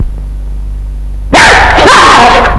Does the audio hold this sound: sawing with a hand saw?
no